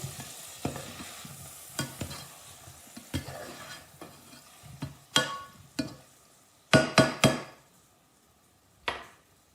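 Pasta sauce with garlic and mushrooms stirred in a hot pan, with soft sizzling beneath a series of sharp scraping and clattering knocks of the spoon against the pan, irregular and close, with no talk.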